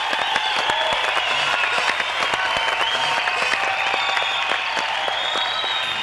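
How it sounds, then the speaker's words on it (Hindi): Applause and cheering crowd in a comedy show scene as a police commissioner is called up, continuous dense clapping under a steady bright tonal layer, loud and sustained. "तालियां"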